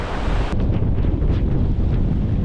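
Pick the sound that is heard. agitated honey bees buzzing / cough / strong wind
strong wind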